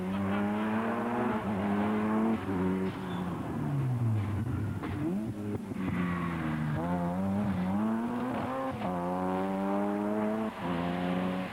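A rally car with a new sequential six-speed gearbox races on a Targa NZ tarmac stage, its engine revving loud and close, climbing through gear changes, dropping on a lift, then pulling hard again.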